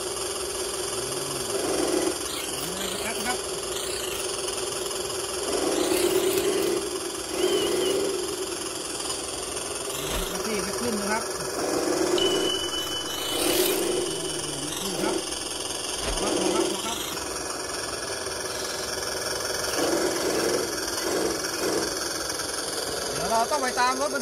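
A D9 bulldozer's diesel engine labours at close range while pulling a six-wheel truck stuck in mud, holding a steady rumbling drone that swells and eases in repeated surges, with voices talking over it.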